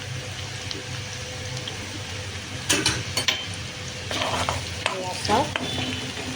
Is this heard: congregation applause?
no